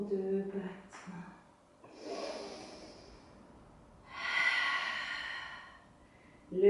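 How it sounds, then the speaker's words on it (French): Slow, deep breaths during a guided exercise class: a long airy inhale swelling for a couple of seconds, then a stronger breathy exhale, close and alone, with a brief voice at the start and end. "Inspirez pour 2 battements et soufflez pour 2 battements."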